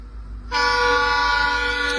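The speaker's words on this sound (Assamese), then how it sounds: "ইয়াত ট্ৰেইন আহি আছে" A train horn near a railway track beside a highway, in front of a house, bursts in after half a second and holds as one loud, steady, close blast to the end.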